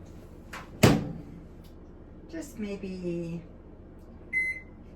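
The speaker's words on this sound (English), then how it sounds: "I'm just gonna pop that into the microwave" A kitchen microwave oven door thumps shut with a sharp clack, followed by a few button presses and a short electronic beep, while a person speaks briefly and quietly.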